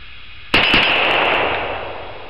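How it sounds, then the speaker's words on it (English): A DPMS AR-15 rifle with a crown-style muzzle brake fires a quick double tap at a 25-yard range, two sharp close reports half a beat apart with a ringing decay after them. "here's our double tap that we ran 25 yards running our crown style muzzle brake. on the DPMS 4-decal AR-15."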